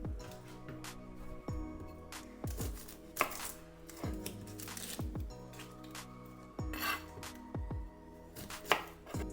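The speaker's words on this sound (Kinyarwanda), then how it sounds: "Tukate ibitunguru byacu" A knife chopping onions on a board, quick repeated thuds in uneven bursts, close and clear, with no speech.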